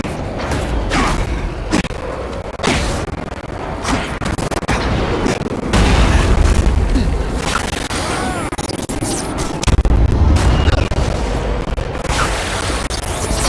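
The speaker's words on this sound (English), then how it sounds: "Seismic blast has a way of bringing people together on the floor." A seismic blast explosion in The Amazing Spider-Man 2 video game: loud, rumbling low booms swell twice amid clattering impacts and crashes of game action, with dense background noise.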